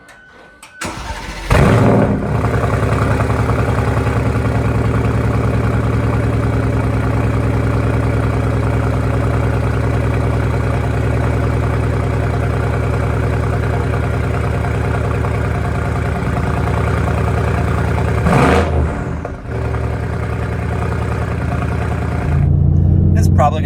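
A Mercedes-AMG GT R with an aftermarket exhaust cold-starts with a sharp bark, then settles into a loud, steady, deep idle close by. A faint voice may be present under the engine.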